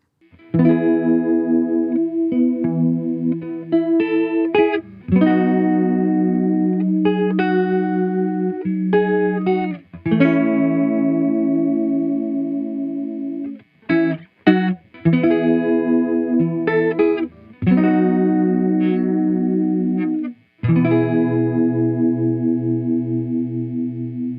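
Electric guitar through a Hardwire CR-7 stereo chorus pedal with a shimmering chorus effect, chords and melodic lines played continuously for about twenty seconds, loud and close, with brief pauses between phrases.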